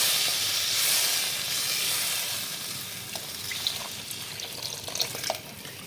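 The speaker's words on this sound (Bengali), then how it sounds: "জল দেবো সরষে বাটা দিতে আমি নাড়বই না" Water and mustard paste go into a hot pan of frying spices for a taro and tangra fish curry, a loud close hiss that settles into softer bubbling and faint crackles.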